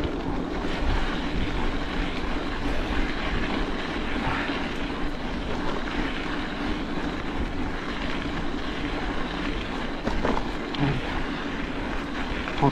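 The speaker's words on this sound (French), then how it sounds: "c'est l'occasion de tester un peu le drone aussi" A camera drone flies outdoors over countryside paths, giving off a loud, steady whirring hum mixed with breezy rushing noise that continues unbroken from start to finish, with no one speaking.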